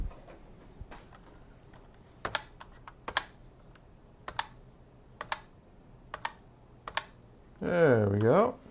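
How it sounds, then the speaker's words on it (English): Someone types on a computer keyboard hooked to a refurbished ASUS desktop PC, producing sparse, separate key clicks at an unhurried pace. A short burst of noise comes right at the end. "So let's try a keyboard."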